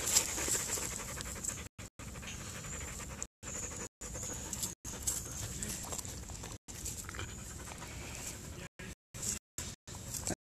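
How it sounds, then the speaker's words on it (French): A dog pants rapidly and steadily at close range in an outdoor dog park in Strasbourg, the breathing continuing throughout with a few brief gaps. "Je crois qu'il y a un chien qui arrive."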